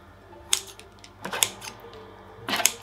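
Kitchen scissors snip bacon épi bread dough on a metal baking tray, three crisp separate cuts, each blade tip tapping the tray, close and clear.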